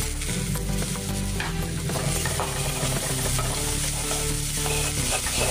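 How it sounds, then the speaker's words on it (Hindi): Coarse ginger and garlic paste sizzles loudly in a pan of browned onions for dal makhani, a dense, continuous frying hiss with faint stirring scrapes and no talking. "अब इसमें हम अदरक और लहसुन का दरदरा हुआ सा पेस्ट डालेंगे।"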